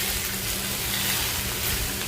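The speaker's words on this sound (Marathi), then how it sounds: "हे आता मी मिक्स करून घेते" Amaranth greens (tandulja bhaji) sizzle and hiss steadily as they are stirred in an iron pan, a close, continuous frying sound with no talking.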